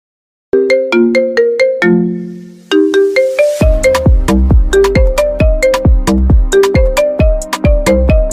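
A melodic phone ringtone plays loud and clear, a bright repeating tune of bell-like tones with a brief pause partway, then a fuller, bass-backed loop.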